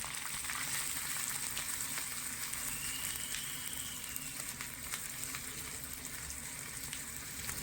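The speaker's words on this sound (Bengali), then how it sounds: "গ্যাসের আঁচটা একদম হালকা রেখে পেঁয়াজটা খুব সুন্দরভাবে ভেজে নেব" Chopped onion frying in oil over low heat makes a steady, dense sizzle that holds evenly throughout, close and moderately loud, without any voices.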